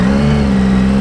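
A Triumph Sprint 1050 motorcycle's three-cylinder engine revs loudly and close by in a steady, sustained drone, with no voices over it.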